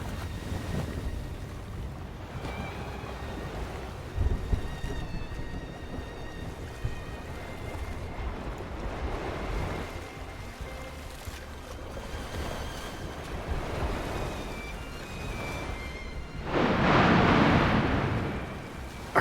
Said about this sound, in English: There's a sea storm